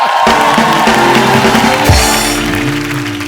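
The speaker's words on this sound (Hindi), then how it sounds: "आप सबकी जोरदार तालियों के बीच में मैं इनवाइट करना चाहूंगा, please welcome Mrs Aishwarya Rai Bachchan" A studio comedy-show audience erupts in loud applause and cheers as a guest is welcomed, a dense, sustained roar of clapping and whoops with music blended in, close and steady.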